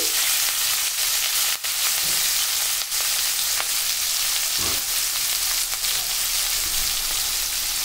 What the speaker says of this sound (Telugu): ఇప్పుడు ఇందులో కట్ చేసి పెట్టుకున్న ఆనియన్స్, పచ్చిమిర్చి,